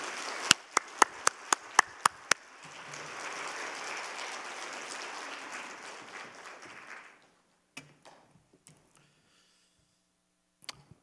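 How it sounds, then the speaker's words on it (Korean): A church congregation at a Friday worship service applauds warmly for an arriving guest preacher, a sustained wash of clapping that follows a few sharp claps and fades out after about seven seconds, leaving near silence with scattered faint knocks. "나오실 때 우리 뜨거운 박수로 환영하겠습니다"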